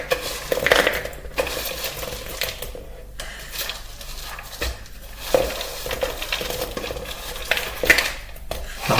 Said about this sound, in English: So we're just gonna throw in your nut mix.